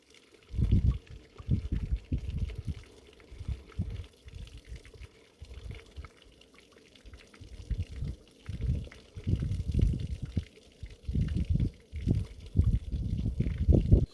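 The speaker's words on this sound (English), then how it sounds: "Sound of water." Running water splashes and gushes outdoors in uneven bursts, sometimes louder and sometimes nearly fading, a close, low, bubbling flow heard alone without talk.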